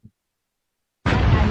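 A bomb blows up in a video game, a sudden loud blast bursting in after near silence and sustaining a rough, roaring burst to the end, preceded by a tiny faint thump.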